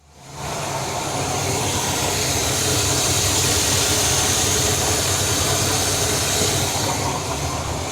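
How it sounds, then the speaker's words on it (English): A Cadillac 472 V8 engine catches after a brief quiet start and settles into a steady, loud idle with a low rumbling throb that continues without pause. "I think we are ready to fire up the engine"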